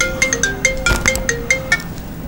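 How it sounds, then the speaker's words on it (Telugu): A phone rings in a repeated electronic ringtone pattern, clear and close, with a steady pulsing rhythm of short tones. "ఒక్క ఫోన్ వస్తుంది."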